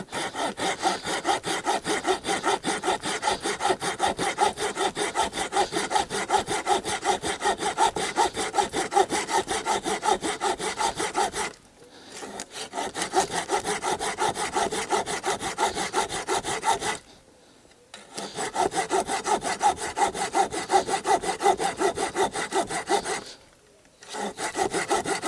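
A folding bushcraft saw cuts through wood in steady, loud back-and-forth strokes, with three brief pauses.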